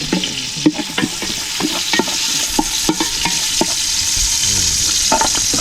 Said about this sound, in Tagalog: Gisa na. O, lagay na ang luya.